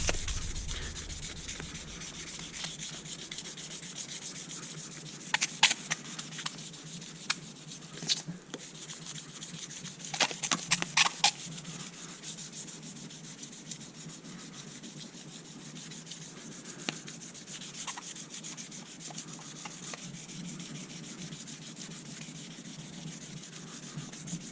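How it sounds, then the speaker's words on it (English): A knife handle is hand sanded with 600 grit sandpaper, giving a steady soft rasping rub with a few sharper scratchy strokes partway through, quiet and close with no talking. "We'll go ahead and hit it with the 600 grit."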